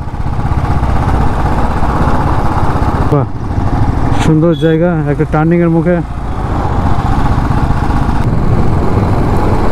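A motorbike rides along a seaside beach road on the Puri to Konarak route in Odisha. A loud, steady engine and wind rumble runs throughout, while someone talks briefly in the middle.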